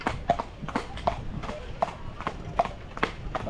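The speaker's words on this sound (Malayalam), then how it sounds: "അപ്പം നമ്മുടെ ലേക്കിൻ്റെ സൈഡിൽ കൂടെ നമ്മൾ കുതിര സവാരി." A horse carries a rider along a lakeside path in Kodaikanal, its hooves clip-clopping in a steady, close rhythm, with faint voices in the background.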